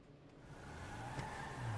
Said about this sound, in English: we'll just drive this car around